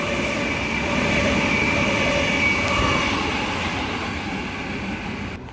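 Kiama-bound passenger train of four cars passing a station platform at Kogarah, a steady, loud rolling rumble sustained throughout, fading slightly at the end.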